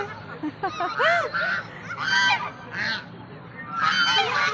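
Several geese honk loudly in repeated bursts close by, with brief pauses between calls and faint voices in the background.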